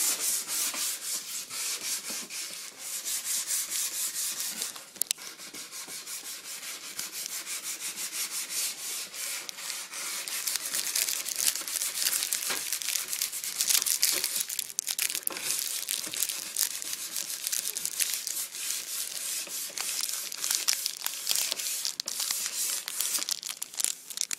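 Steady, close scratchy rubbing as sandpaper is worked along the grain of a wooden cigar box guitar neck, continuous back-and-forth strokes with no pauses or voices.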